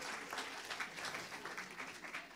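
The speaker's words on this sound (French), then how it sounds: "Applaudissez-vous, applaudissez-vous" A crowd claps at an evening book launch event, with a steady wash of fairly faint applause continuing throughout.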